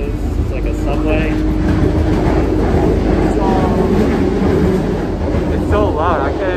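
A Boston MBTA subway train roars loudly and continuously from inside the car, with rumbling wheels and faint squeals as voices murmur underneath.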